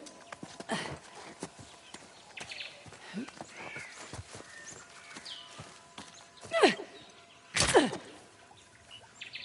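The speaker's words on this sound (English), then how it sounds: "I think I hear horses." Horses' hooves clip-clopping in faint, scattered beats at a distance, with birds chirping around them and a couple of sharper, louder knocks toward the end.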